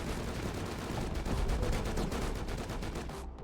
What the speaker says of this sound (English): the patrol heli comes flying in, and we're looking at a strafing run here